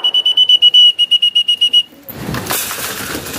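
A pigeon-calling whistle sounds close and loud in a rapid string of about a dozen sharp, shrill toots, then stops and leaves a soft rustling background.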